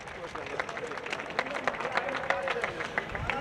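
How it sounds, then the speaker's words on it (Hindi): Audience applause at a poetry recital: a steady wash of many hands clapping from a crowd, moderately loud and continuous throughout. "एक बार जोरदार तालियां।"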